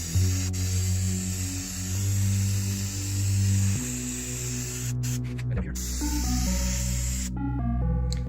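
An aerosol spray can on a high setting hisses steadily as coats of adhesive are sprayed onto Jeep TJ headliner foam panels, a continuous close hiss with a low hum underneath and short pauses between passes.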